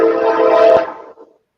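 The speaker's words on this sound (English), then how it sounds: "I'm gonna give the train a second." A train passing nearby, a loud rumbling and whistle-like tone that holds steady, then fades away over the last half second.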